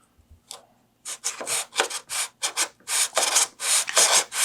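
A Sand It sanding tool with a miter gauge puts a 10-degree angle on a piece of basswood. Close, rhythmic rasping strokes of abrasive on wood come about a dozen times in quick succession after a faint start.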